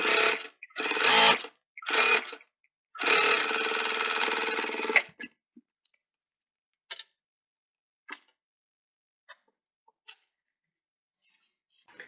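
A sewing machine stitches a bum bag in several bursts, a short one, two quick runs and a longer two-second run, then stops, leaving a few faint scattered clicks.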